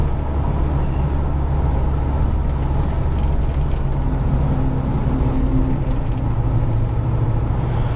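A metro train passes along a street in Jeddah, Saudi Arabia, a loud continuous low rumble mixed with road traffic noise and no talking.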